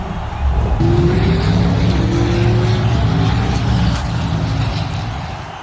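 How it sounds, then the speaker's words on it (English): Hot Wheels diecast toy cars racing down a track, making a steady, loud whirring rumble of rolling wheels that holds for several seconds before easing slightly at the end. "All the teams appear ready as they get set on the track, so let's head down for race 1."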